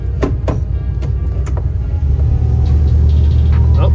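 A 1996 Ford E-350 van, freshly fitted with a new fuel tank, rolls off on a test drive: a deep, steady engine and road rumble, with a few sharp clicks and knocks early on, swelling louder and fuller as it picks up speed.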